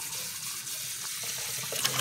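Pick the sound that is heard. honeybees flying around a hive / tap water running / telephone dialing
tap water running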